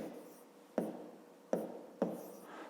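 A pen on paper writing out a fifth-grade math problem, heard as quiet scratching with three sharp taps as the pen lands, close and faint with no talk.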